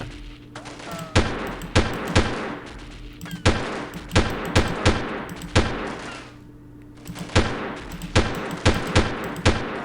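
An assault rifle in the game Delta Force fires sharp, loud shots singly and in short bursts, clustered in uneven groups with brief pauses between them over a low background hum.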